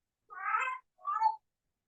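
A pet cat gives two short, clear meows in quick succession, close by, the second one briefer, with silence around them.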